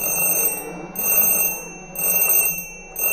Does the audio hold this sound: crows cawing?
no